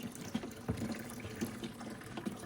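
A small pump on a cheap portable parts washer pushes water through a hose into a basin, a steady close splashing flow with a low hum and light, irregular gurgles.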